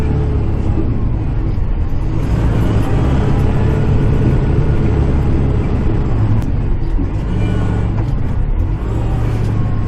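Kubota tractor engine running while plowing snow, a loud, steady low rumble with constant drone and slight load variations, close up and continuous with no speech.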